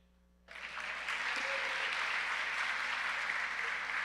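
An audience at a school end-of-year awards convocation starts applauding abruptly after a quiet moment, the clapping swelling quickly into a steady, dense round that continues to the end.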